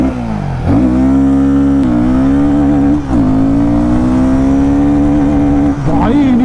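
A Royal Enfield Guerrilla 450 motorcycle accelerating hard from standstill toward 100 km/h, its loud close engine note climbing through several gears with brief dips at each shift.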